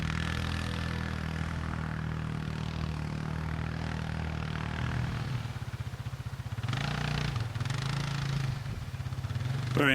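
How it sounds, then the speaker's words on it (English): TGB Blade 550 quad bike engine labouring up a steep farm hill, a steady loud drone with a brief dip and pulse in revs midway before it pulls on strongly. "But the TGB 550 makes short work of this hill."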